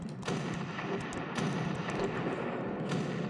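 Heavy naval guns on an ocean liner refitted as a battleship fire in Ship Crash Physics, a dense run of booming thuds and sharp cracks rolling together without pause, loud and close, with no talk over them.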